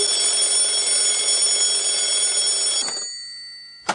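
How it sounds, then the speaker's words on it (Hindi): A cartoon alarm clock rings loud and continuous for about three seconds, a harsh metallic buzzing ring that cuts off abruptly, followed by a brief clunk. "अलार्म भी बज रहा है"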